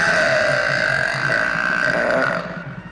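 A man lets out one loud, long, throaty burp from a recording, holding steady for over two seconds before it cuts off abruptly.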